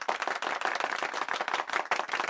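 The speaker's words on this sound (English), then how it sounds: "We're going to give him a round of applause." Audience applause at a basketball game reaction event for a player, dense steady clapping from many hands throughout, fairly loud and close with no talk over it.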